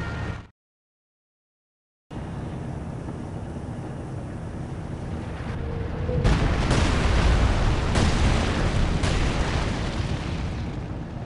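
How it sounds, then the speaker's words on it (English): An incendiary artillery barrage on the Eastern Front, Lublin mission of Company of Heroes 2, begins after a short silence and builds into a heavy, sustained roar of blasts and rumbling fire. "Launching incendiary artillery barrage!"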